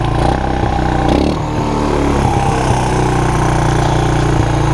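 An abandoned Suzuki LT160 ATV, fitted with a PZ26 carburetor and with a locked-up shifter, runs steadily up close, its loud, even engine drone holding throughout with only slight shifts in pitch.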